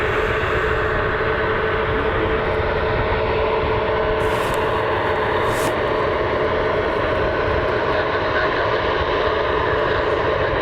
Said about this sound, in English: Got Delta and American on their way over to the runway now.